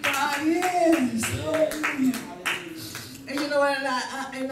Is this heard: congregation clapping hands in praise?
yes